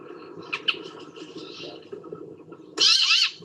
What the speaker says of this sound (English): listen out also for these very distinctive sort of wheezing calls that they have